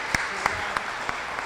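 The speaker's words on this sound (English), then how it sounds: "let's give her a round of applause, huh?" A few sparse claps for a young dancer at a live show, sounding as separate sharp hits spaced roughly evenly over a room background rather than full, dense applause.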